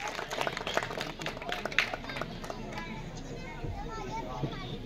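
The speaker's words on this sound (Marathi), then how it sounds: "सुंदर टाळ्या वाजूया आपण." Scattered outdoor applause at a village festival prize ceremony, moderate and somewhat distant, mixed with crowd noise and children's voices.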